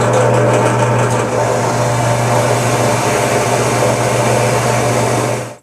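A steady, loud whine of a small power drill runs continuously as it bores little holes and recesses into knife grips, close and unbroken for several seconds, with no voices.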